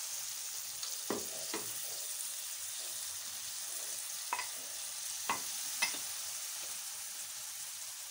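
Flattened rice (poha) upma with turmeric and curry leaves is stirred in a pan, giving a few scattered scrapes over a steady, soft sizzle.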